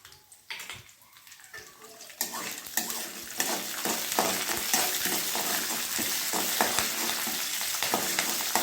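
Nuts and curry leaves fry in hot oil for curry leaf rice. The pan is quiet at first, then a loud, steady sizzle builds, broken by scraping stirs against the pan, with no talking.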